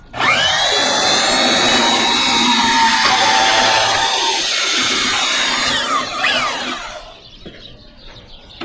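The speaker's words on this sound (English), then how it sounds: "Get our killer bandsaw out again." Bandsaw cutting a valve off the copper pipe of a scrapped water heater, a loud, sustained, high grinding whine that drops and fades near the end, leaving quiet clatter.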